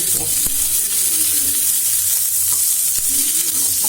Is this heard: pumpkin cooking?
yes